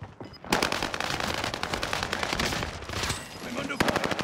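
Gunfire in Call of Duty Warzone comes in dense, rapid automatic bursts, loud and close, with overlapping shots that form an almost continuous clatter for several seconds.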